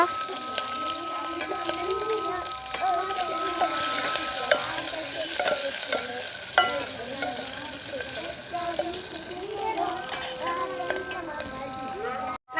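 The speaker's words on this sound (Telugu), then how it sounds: "ఉల్లిగడ్డ పచ్చిమిర్చి వేస్తున్నామండి" Onion and green chillies fry in a pan with a steady, close sizzle and occasional stirring scrapes, continuing under nearby conversation.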